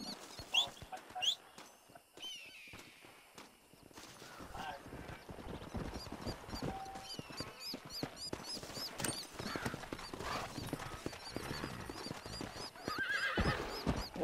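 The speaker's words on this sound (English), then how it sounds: "Oh meu Deus, cavalo pulando sozinho, jump along." Horse in the video game Red Dead Redemption, rhythmic hoof clip-clops with a neigh and whinny amid other game sounds, with a voice talking faintly at times.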